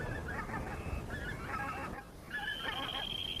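Pink-footed geese in the high marshes of Þjórsárver, Iceland, honking in faint overlapping calls from a distant flock over a soft windy background.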